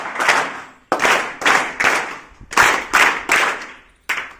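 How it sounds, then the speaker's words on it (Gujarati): An audience at an honouring ceremony claps in unison, loud sharp bursts in a steady rhythm, about eight strong claps with short pauses between them. "સન્માન કરીએ 3 તાળીથી સૌપ્રથમ."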